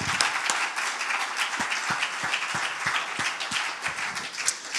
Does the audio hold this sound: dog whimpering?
no